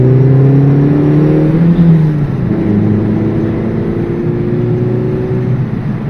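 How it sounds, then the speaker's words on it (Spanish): A 1600 cc, 100-horsepower Opel Corsa GSI engine without any filter or catalytic converter revs loudly and close, the pitch climbing, dipping, then holding a steady raspy drone. "este pequeño motorcillo 1600 de 100 caballos, sin ningún tipo de filtro, ni catalizador, ni nada de nada, suena como un superdeportivo"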